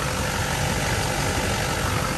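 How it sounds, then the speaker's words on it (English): A 2005 Chevy 2500 four-by-four diesel pickup idles steadily nearby, a constant low rumble with a hissing broadband texture and no talk. "Is a diesel motor."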